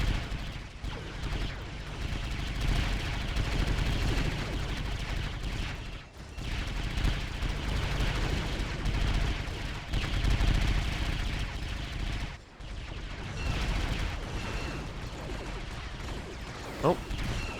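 Heavy weapons fire in a Star Wars: Galaxy at War battle on Jakku, with AT-ATs and trenches, sounds as a dense, continuous roar of blasts and explosions. It carries on throughout with brief dips and a sharp crack near the end.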